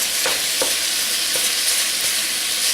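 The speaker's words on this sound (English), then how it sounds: "as you're frying this, you want to try to break it down into much smaller pieces" Ground meat fries in a pan with a steady, bright sizzle, broken by a few soft scraping and tapping strokes as it is stirred and broken into smaller pieces.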